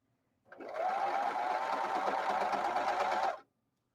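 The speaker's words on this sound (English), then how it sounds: "I'm using a serger, and I'm just going around the armhole" A serger hums in one steady, continuous burst of fast stitching around a shirt armhole lasting about three seconds, close and fairly loud, starting and stopping abruptly.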